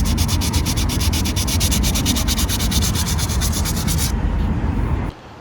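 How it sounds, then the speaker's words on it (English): Power sander working the painted front bumper of a Fiat Abarth to remove scuffs, a loud steady abrasive whir that runs continuously for about four seconds, then fades to a duller rumble before stopping near the end. "He sanded down the front bumper to get rid of all the scuffs along there"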